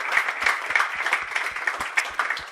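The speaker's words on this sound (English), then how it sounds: "a massive round of applause for you guys" An audience applauds an alumni panel at a startup university event, a sustained dense round of clapping with fairly even rhythm, moderately loud and without talk over it.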